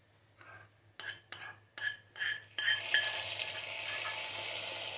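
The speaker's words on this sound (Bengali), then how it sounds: "এখন বাগার দিয়ে ফেলবো" Half a spoon of cumin goes into a little hot oil for tempering a chicken and potato dish: several spoon clicks and scrapes in a pan first, then a sudden steady sizzle that keeps hissing.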